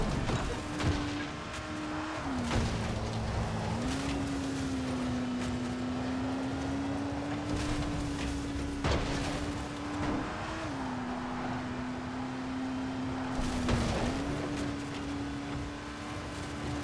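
A car drives in Dying Light: The Following with a steady, droning engine note that dips and rises slightly as it shifts, running continuously under constant road and game noise.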